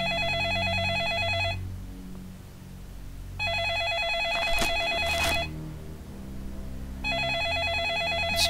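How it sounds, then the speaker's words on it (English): An old-style telephone bell rings in the video game Second Sight, two long trilling bursts separated by a pause with a third starting at the end, loud and close over a low game background. "Not answering his phone. Pick it up, Axel."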